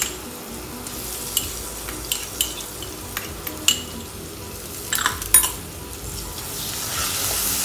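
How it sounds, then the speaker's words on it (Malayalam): Ground ginger paste being sautéed in a pan for a shrimp curry with kudampuli, heard as a steady low sizzle with intermittent scraping stirs and spoon clinks against the pan, alone and close. "അതും ഒന്ന് അതിൻ്റെ ഒരു പച്ചച്ചോഴ മാറുന്നവരെ ഒന്ന് വഴറ്റി കൊടുക്കാം"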